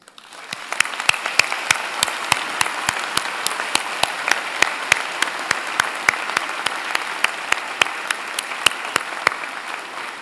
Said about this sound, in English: join me and the platform party in thanking them with a very vigorous round of applause